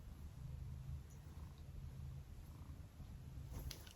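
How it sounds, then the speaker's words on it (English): A cat purrs steadily up close, a low rhythmic rumble that swells and fades with each breath, with no voices over it. "I don't know if you can hear her, she's purring like a loon."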